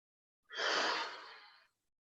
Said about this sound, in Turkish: Tekrar derin bir nefes alıyoruz.